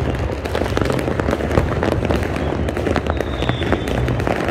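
Lunar New Year's Eve fireworks for Giap Thin 2024 burst in a thick, unbroken barrage of crackles and booms, loud and near throughout.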